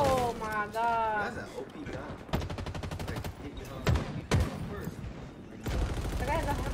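Rapid automatic gunfire from an overpowered weapon in the shooter Halo Infinite, firing in fast repeated bursts mixed with game effects and a few heavier impacts, while players talk excitedly over it.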